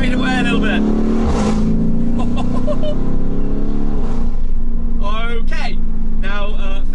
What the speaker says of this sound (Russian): два турбокомпрессора, сжимая воздух, заглушают звук двигателя